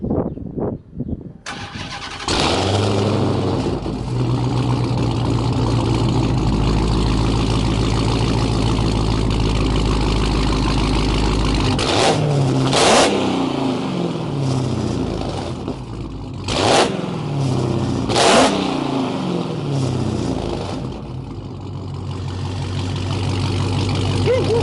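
Stock Dodge Hellcat Charger with an aftermarket exhaust cranks and fires up, then settles into a loud, deep idle close by, broken by several sharp throttle blips and revs before dropping back to a rumbling idle.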